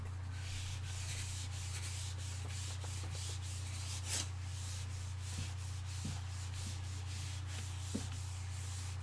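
Steady soft rubbing and scrubbing as a classroom board is erased, continuous and faint, with a low hum underneath and a few light knocks.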